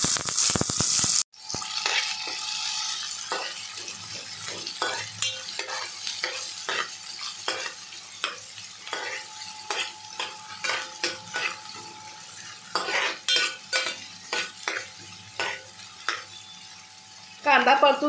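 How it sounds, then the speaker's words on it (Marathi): Onion frying for prawn masala sizzles under repeated rhythmic stirring, with a steady run of spatula scrapes and knocks against the pan after a brief loud opening burst. "आता मी कांदा टाकत आहे ह्याच्यामध्ये।"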